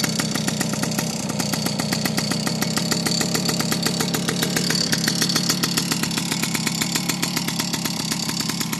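Peugeot 103 MVS moped engine running steadily after starting, a loud, close, buzzing two-stroke idle with a rapid even pulse throughout and no talking.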